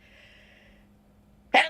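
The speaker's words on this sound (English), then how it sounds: "I think I'm going to sneeze." A single sharp, loud sneeze bursts out near the end after quiet low hum, close to the listener.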